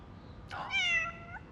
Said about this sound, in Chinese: 居然会养一只这么可爱的小猫咪。